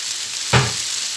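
Potatoes frying in butter and a little oil give a steady broadband sizzle, with one brief louder burst partway through as they are turned or stirred in the pan.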